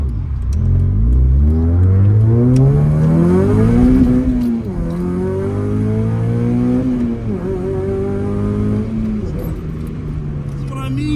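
A Honda Accord Euro / Acura TSX engine revs hard toward 8,000 RPM through VTEC, rising in pitch, falling back and climbing again, loud and close from the cabin, with speech over the top.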